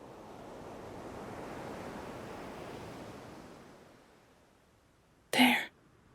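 Ocean waves wash and break in a steady roar, with wind rushing over the surf. The sound swells for a few seconds, then fades toward quiet, and a short, sharp burst follows near the end.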